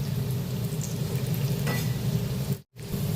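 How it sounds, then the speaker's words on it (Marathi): Wet prawn fritters deep-fry in oil over a low gas flame, giving a dense, even bubbling sizzle that fills the whole stretch, broken by one brief dip near the end. "5-6 मिनिटं त्याच्यामध्ये आपल्याला तळून घ्यायचे"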